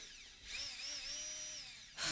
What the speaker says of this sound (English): Can you put the drill down?